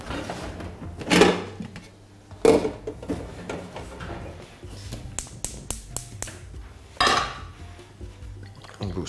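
A frying pan set down on a gas stove in a home kitchen, a few sharp metallic clanks and knocks spaced out among lighter clicks and taps, close and fairly loud with no voices.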